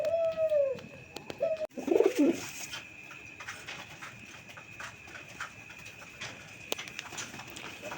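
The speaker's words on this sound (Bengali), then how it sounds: "বন্ধুরা এখানে একজোড়া সবজি রেসার কবুতর" A pair of vegetable-coloured racer pigeons coos in a few soft, low calls near the start, with a quieter stretch of faint room noise afterward.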